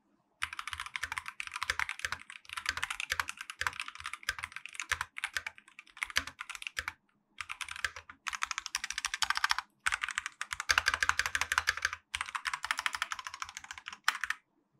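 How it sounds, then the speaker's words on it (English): Rapid typing on a DrunkDeer G60 mechanical keyboard with tape mod and added foam, muted and thocky, in bursts with brief pauses between, close and clear with no talking. "I'll do the sound test of what the keyboard sounds like now with the tape mod and the new foam."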